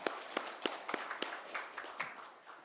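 A Sunday church congregation claps, but only a handful of distinct, crisp hand claps come through, spaced unevenly and fading toward the end against a quiet room.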